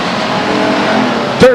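Race cars at Stockton 99 Speedway drone along the backstretch in a steady engine rumble that carries beneath a commentator's voice, with a short sharp rising engine burst near the end.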